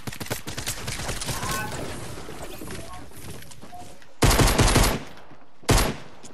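Rapid bursts of gunfire from the video game Fortnite, a dense crackling volley under excited talk, then two short loud bursts near the end.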